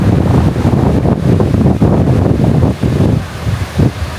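Strong wind roars steadily across a Boracay beachfront during the August habagat monsoon, buffeting the microphone in heavy continuous gusts with surf churning underneath, loud and close throughout.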